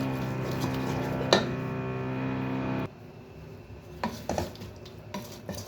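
Chickpeas stirred and fried in a spice masala in a pot for Lahori chanay. A steady sizzle runs under sharp metal spoon scrapes and clinks against the pot, then quieter stirring follows with a few scattered taps.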